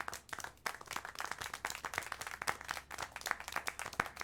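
Clapping in the video game Syberia - The World Before, a quick, uneven run of sharp hand claps at moderate distance, fairly quiet, with no talk.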